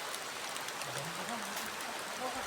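Heavy rain hisses steadily outdoors as a dense, even wash of noise, with a voice faintly talking beneath the downpour.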